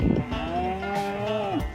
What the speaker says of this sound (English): Our cattle drive goes right through town.